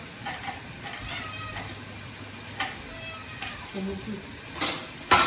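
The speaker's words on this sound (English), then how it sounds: "even our cat wants some." A house cat meows a few short times in a home kitchen during baking, fairly quiet, with light clinks of dishes and ticking in the background.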